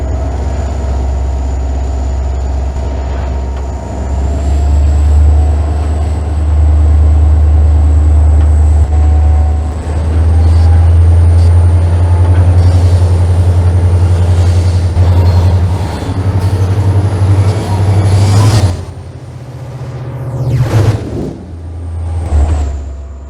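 A locomotive hauling a long consist in the Trainz simulator drones with a loud, steady, low engine rumble and a faint high whine, broken late on by a hissing burst like a brake release.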